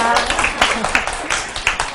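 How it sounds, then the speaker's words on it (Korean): A lecture-hall audience of nursing-exam students claps briefly for a Korean community health nursing lecturer, several sharp bursts of hand claps in a short, moderately loud round, with faint speech underneath. "자, 박수 쳐주시게요?"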